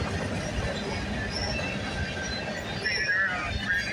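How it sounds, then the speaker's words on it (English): A CN freight train rolls past at Burlington West, a steady low rumble of wagons with faint wheel squeals and clatter, heard at moderate distance. "This train originates from the McMillan Yard in Toronto, Ontario, terminates at the Symington Yard in Winnipeg, Manitoba."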